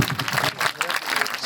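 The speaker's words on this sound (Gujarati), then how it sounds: "આપણે સૌ તાળીઓના ગડગડાટથી વધાવશું." An audience breaks into applause to welcome an honoured guest being shawled at a ceremony, a short burst of clapping from a crowd at moderate distance, with uneven swells.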